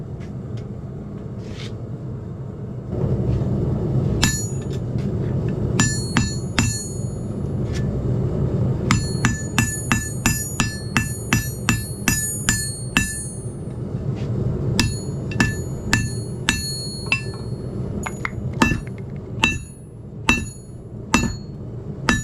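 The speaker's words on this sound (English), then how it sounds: "So right now I'm just using a hot cutoff tool that I made myself" Repeated sharp metallic hammer blows strike a homemade hot cutoff tool on hot steel while forging a San Mai hunter knife, irregular ringing hits over a low rumbling background, loud and close, with no talking.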